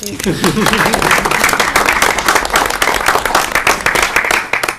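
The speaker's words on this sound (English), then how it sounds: "So a little round of applause for you." A small round of applause at a school committee meeting, brisk close clapping from a modest group that starts just after a voice and continues loudly to the end.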